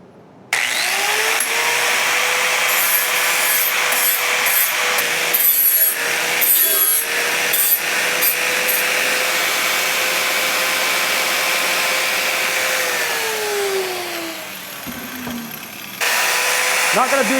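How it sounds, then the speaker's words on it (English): An angle grinder fitted with a flap disc sands a wooden Gothic arch birdhouse, a loud steady high whine with grinding abrasion that dips briefly near the end before resuming. "I got the angle grinder set up with the a flap disc wheel in here, and I'm just going to hit this"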